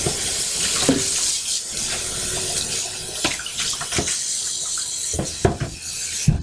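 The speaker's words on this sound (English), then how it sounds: "make sure you at least rinse the bowl right away" Tap water runs steadily into a sink while a mixing bowl is rinsed, with occasional clunks and rubbing of the bowl under the stream.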